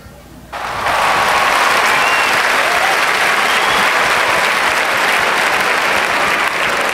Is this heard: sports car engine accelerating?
no